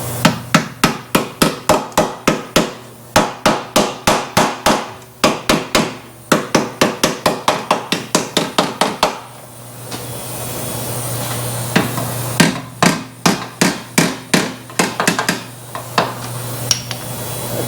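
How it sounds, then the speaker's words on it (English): A hammer strikes the pinch weld on a wrecked Toyota Prius body in bursts of sharp, ringing metallic blows, loud and close, with brief pauses between volleys under a steady low hum. "Oh, I need some hammering right there."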